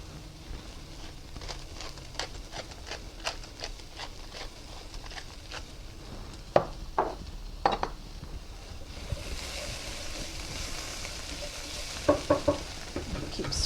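Eggs being scrambled in a hot frying pan for chicken fried rice, with a steady soft sizzle, scattered scraping and stirring taps from a utensil, and a brief louder hiss burst later on.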